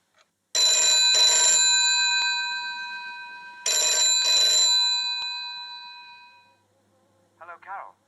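A telephone rings in two long electronic bursts, with a short gap between them, loud and close, as a boyfriend calls. A brief buzzing chirp follows near the end.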